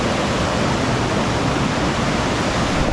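Mountain stream water rushing over large rocks after rain, a loud, steady, full roar of flowing water close by with no pauses.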